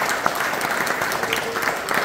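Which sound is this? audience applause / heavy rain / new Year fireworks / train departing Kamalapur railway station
audience applause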